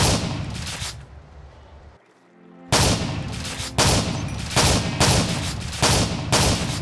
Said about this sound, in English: Just look how many shots it fires.